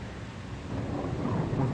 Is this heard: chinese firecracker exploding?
no